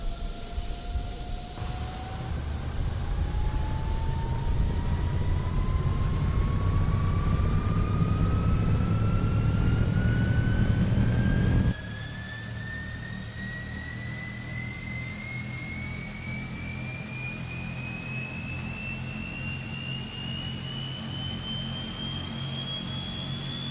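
A Transall C160 turboprop engine spools up during start in Microsoft Flight Simulator, a steady rising whine climbing over roughly twenty seconds above a loud turbine rumble that drops in level partway through, with no talk.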